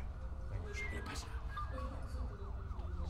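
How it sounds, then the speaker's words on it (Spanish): An ambulance siren wails in the horror film REC, rising and falling tones sounding at a moderate distance over a low, rumbling background. "Señora, ¿no oye la ambulancia?"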